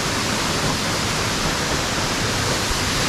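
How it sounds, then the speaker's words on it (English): A waterfall beside a wobbly suspension bridge at Lake Atitlán, Guatemala, roars as a loud, continuous broadband wash of falling water with no breaks throughout. "Oh, you got this nice waterfall to keep you company."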